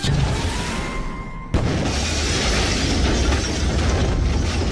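A rocket explodes in a Lego Scooby-Doo video game at a toy factory: a sudden loud boom cuts in after a short lead-in and gives way to a sustained roaring rumble.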